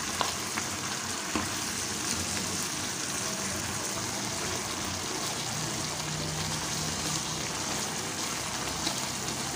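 Softened tomatoes fry in a karahi for chicken tikka karahi, producing a steady, even crackling sizzle throughout, moderately loud and close, with no talk over it.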